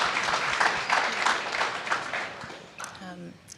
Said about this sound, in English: Yes, let's clap it up.